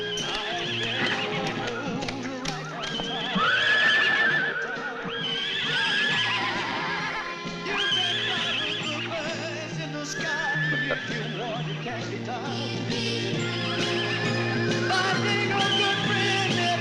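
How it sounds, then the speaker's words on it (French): Horses in a western comedy film neigh and whinny repeatedly over the steady clip-clop of hooves, loud and close, with no talking. "Sont à qui ces chevaux?"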